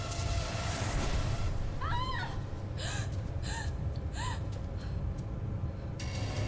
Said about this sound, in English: Triple gasp.